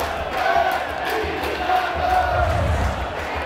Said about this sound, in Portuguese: Arra, uhu, o Batistão é nosso, cantou a torcida visitante no final do jogo